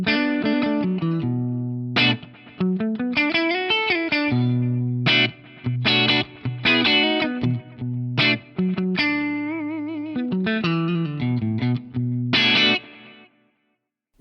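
Electric guitar run through a Fractal FM3 with stacked drive pedals, delay and reverb, playing chords and melodic phrases in bursts with short pauses, lightly overdriven and swelling with echo tails, loud and alone.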